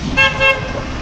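Two short tonal honks from a fire truck horn in a parade, the first near 0.2 s and the second near 0.45 s, bright and fairly loud over a noisy outdoor crowd background.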